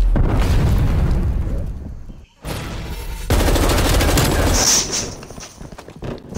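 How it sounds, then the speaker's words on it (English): Gunfire in the video game Call of Duty Cold War: loud, dense bursts of automatic shots and booming blasts filling nearly the whole stretch, with a brief gap before the firing resumes. "He's shooting me from that distance."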